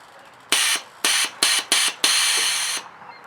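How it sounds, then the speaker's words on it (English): An air ride suspension dump valve on a Harley touring motorcycle lets out sharp bursts of air. Four short hisses come close together, then one longer release, all loud and close. "so we got that little dump valve"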